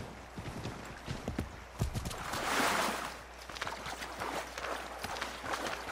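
Hooves of a horse clip-clopping at a trot in Assassin's Creed 3, steady rhythmic beats close by with a brief louder splash-like swell in the middle.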